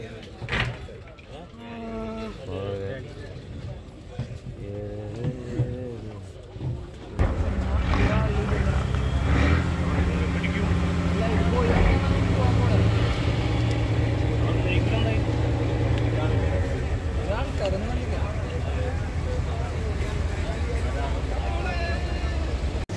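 The motor of a sardine-fishing boat drones loud and steady as the boat heads from the shore out to sea, with rushing wind over it. Voices talk and call out before the engine starts and carry on above its roar.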